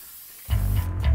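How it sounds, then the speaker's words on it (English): A can of protective matte spray hisses onto a painted IG-88 miniature from Star Wars Imperial Assault, starting abruptly after a quiet moment as one loud, close, continuous burst. "we can now give the figure a protective matte spray"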